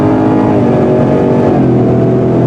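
A 2023 Ford Raptor R, the 700 hp supercharged pickup, accelerates with a loud, steady engine roar layered with a sustained tonal whine for the full stretch, with no talking.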